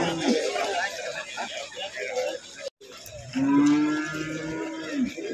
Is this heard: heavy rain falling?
no